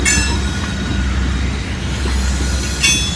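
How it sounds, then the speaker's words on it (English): A loaded coal train rolls past on the tracks, a steady loud rumble of railcars and wheels with faint squeal and rising hiss near the end, continuous for the whole stretch with no voices. "That's why I had to wait on that coal train."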